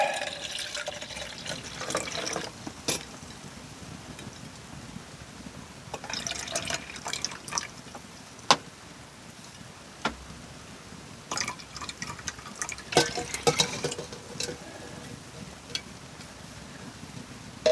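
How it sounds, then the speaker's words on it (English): Lukewarm water poured into a bowl while making bread dough in a hot tent, a steady splashing trickle with brief louder surges, close by and heard alone. "So now I got to put approximately half of that water into here."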